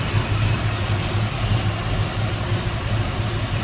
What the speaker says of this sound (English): Wow, nice smooth running V8